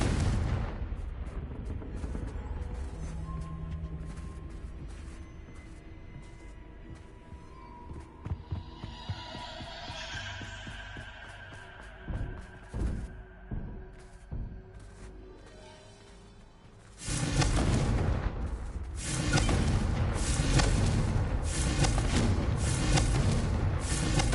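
The Confringo explosion spell in the Hogwarts Legacy video game: scattered low booms and crackles, then a loud, sustained roaring blast that fills the last several seconds.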